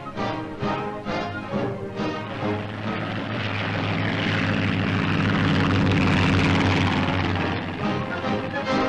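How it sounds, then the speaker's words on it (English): A propeller-driven towing plane drones loudly overhead as it snatches a glider from the ground without landing, the engine note swelling and holding steady. "Here's how it's picked up without the towing plane having to land."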